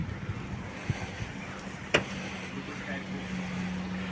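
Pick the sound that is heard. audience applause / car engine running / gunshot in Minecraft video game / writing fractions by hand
car engine running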